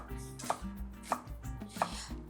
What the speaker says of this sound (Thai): ตอนนี้หั่นผักเตรียมได้เลยนะคะ